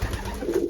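Young racing pigeons cooing inside the loft at feeding time, a brief close, low, throaty coo.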